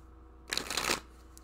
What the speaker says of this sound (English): I never shuffle my cards like that.